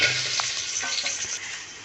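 Onions sizzle and crackle in hot oil, a steady bright frying hiss with occasional stirring sounds, close up and continuous.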